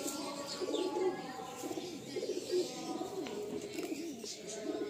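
Several pigeons coo and murmur steadily in a loft kept for fancy breeding birds in Garia, Kolkata, a close, continuous low burble with a few faint chirps mixed in.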